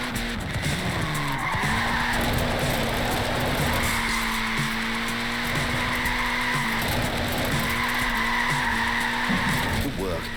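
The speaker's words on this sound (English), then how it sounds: "Look at that, laying down some rubber there" A tiny Lego car skids in Forza Horizon 4, its tyres squealing continuously across the whole stretch over a steady engine drone, with someone talking over it.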